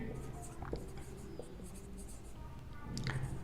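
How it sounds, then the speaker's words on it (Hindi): A pen writing out a calculation on paper, soft scratchy strokes close by, heard under a speaker's ongoing talk. "यहां पर हम लिखेंगे"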